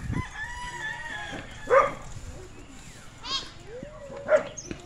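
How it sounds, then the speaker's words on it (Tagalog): A rooster crows nearby several times, rising calls over low background noise with a few quieter clucks and distant sounds between them. "ang manok ni Mr. Ben"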